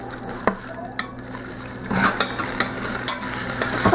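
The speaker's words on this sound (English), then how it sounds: "Okay, you can hear it start to sizzle around a bit." Chicken pieces sizzle in about two tablespoons of oil in an Instant Pot while being stirred, a crackling frying hiss punctuated by sharp scrapes and knocks of a utensil against the pot.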